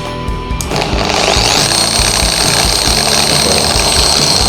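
A new Shinemate EX610 dual action polisher switches on at 2000 rpm and settles into a loud, steady motor whine with a rapid buzzing orbit, close up after a brief click and spin-up.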